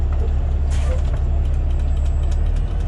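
A Cat 938K wheel loader engine runs as it is idled up, a loud, steady low diesel rumble close by, with a brief hiss or rattle near the start and no talking.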